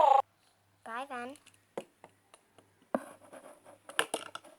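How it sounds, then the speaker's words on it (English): A cat meows in short, close calls, followed by light scratching and pattering sounds, while someone speaks to it softly in between. "You're such a cute cat."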